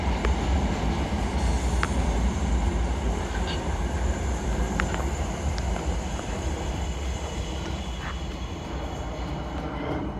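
A South Western Railway Class 455 electric train runs through Vauxhall station, a steady loud rumble and rail roar sustained throughout with faint squeals and clicks above.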